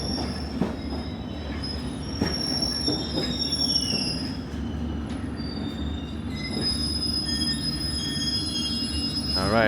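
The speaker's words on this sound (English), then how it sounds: "the train's now arriving" A London Underground Circle Line train rolls into the station with loud, sustained wheel squeal and low rumbling, metallic screeches rising and falling throughout as it draws close.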